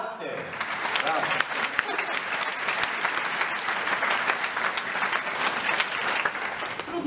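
Audience at the opening gala of the 29th Mozart Festival in Warsaw breaks into dense, sustained applause that fills the hall, steady throughout with a few voices mixed in.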